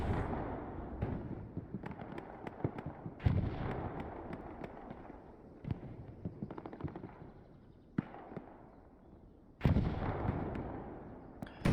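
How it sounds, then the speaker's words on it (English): Rockets and explosions in Hell Let Loose crack and thud repeatedly, with sharp irregular blasts and louder booms near the start and end over a rumbling battlefield background, and no talking. "Rockets flying over the top."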